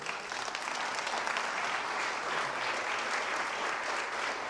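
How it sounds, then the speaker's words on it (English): Dense, continuous audience applause at a live-streamed Unity gathering in Marin, a uniform roar of many hands clapping at steady volume throughout, with no talking. "One more round of applause."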